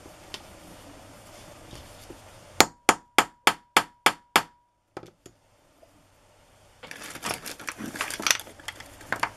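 A hammer sets a red metal eyelet on the front of a paper journal pocket: seven quick, evenly spaced sharp taps, followed by a few light clicks and then rustling paper handling, with no talking.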